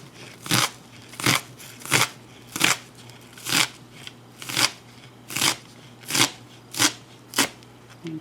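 A knife chops through potatoes on a cutting board for a classic potato salad, making about a dozen crisp, evenly spaced thuds and slices at a steady rhythm, close and clear with no voices.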